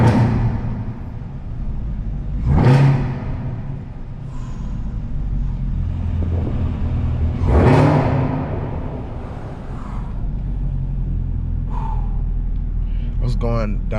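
Chevrolet Camaro ZL1 exhaust echoing inside a parking garage, a deep sustained rumble with two loud rev swells and a later burst, while someone talks over the engine.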